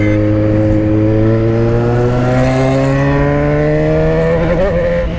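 A Yamaha XJ6 motorcycle with a 2.5-inch stainless steel exhaust accelerates steadily, its engine note rising smoothly through the revs, loud and close throughout.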